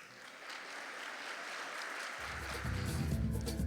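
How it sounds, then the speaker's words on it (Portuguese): An audience at the FIPA 2026 opening ceremony in Belém applauds with a steady wash of clapping, and deep music swells in partway through beneath the applause. "Parabéns por este importante trabalho que recebe os aplausos mais uma"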